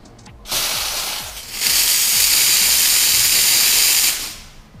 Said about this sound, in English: open the steam wand for a few seconds